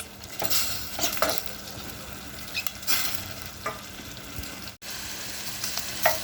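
Ground beef mince, about 250 grams, sizzles in a pan for a spinach, potato and mince börek filling, with a steady frying hiss and repeated scrapes and clinks of a utensil stirring it.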